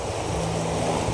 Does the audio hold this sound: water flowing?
yes